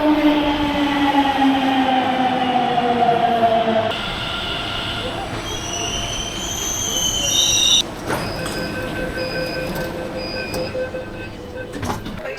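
A Delhi metro train rumbles steadily, with wheels squealing in long high tones and a brief clunk partway through, loud and continuous.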